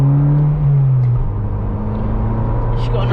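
A Ford Fiesta Zetec S with a new loud exhaust holds a steady, throaty engine drone that dips slightly in pitch then settles, heard close from inside the car, with a voice briefly speaking over it.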